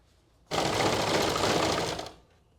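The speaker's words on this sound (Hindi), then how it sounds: "मैं इसे इस तरह से पकड़ के सिलाई लगाऊंगी" Sewing machine stitching salwar fabric while a nefa is being made, running steadily and loud for about a second and a half before winding down, with no talking.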